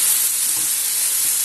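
Garlic sizzles loudly in a pan as liver and onions are stirred in, a steady bright frying hiss without pauses.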